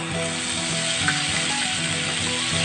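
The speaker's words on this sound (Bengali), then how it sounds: "টমেটো পাকা লঙ্কা আর আদার যে পেস্টটা করেছিলাম সেইটা আমি দিয়ে দিচ্ছি।" Tomato, red chili and ginger paste hits hot oil for a pointed gourd dish made without poppy seeds, sending up a loud, continuous sizzle with faint stirring scrapes and no voices.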